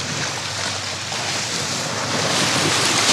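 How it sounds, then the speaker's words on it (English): Boat wake waves washing onto a shoreline during land-based fishing, a loud continuous rushing surf with heavy wind noise on the microphone, no voices. "The boat wash can go away."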